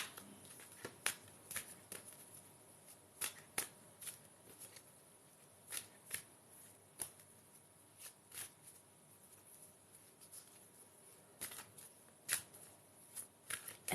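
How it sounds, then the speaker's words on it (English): Angel cards are shuffled by hand in a quiet room, with soft sharp riffles and taps arriving in irregular bursts, close and faint, and no talking. "let's shuffle the angel cards"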